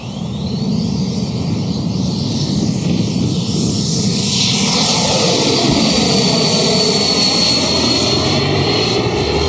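A Black Horse Viper RC jet with a JETFAN-110 ducted fan, 3kW motor and Li-Ion pack flies in a crosswind, giving a loud, continuous whooshing whine that stays close and strong throughout, with no voices.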